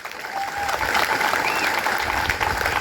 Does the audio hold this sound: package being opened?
no